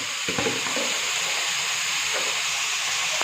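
Potatoes fry in hot oil as a potato fry is made, with a dense, continuous sizzle and hiss and a few faint stirring scrapes underneath, close and steady from start to finish.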